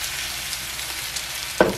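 Batter frying in a pan for a jang-tteok pancake with onion and lettuce, a constant close hiss of sizzling oil with a brief louder crackle near the end.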